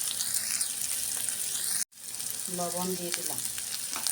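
Spices being fried and stirred in a pan of oil for a potato curry, with a steady close sizzle and scraping stirs, briefly cut off, then resuming as someone speaks over it.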